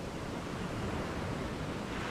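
Sea waves along the Ilocos coast in the Philippines, a continuous broad wash of surf heard steadily with some wind rush, filling the clip without any speech.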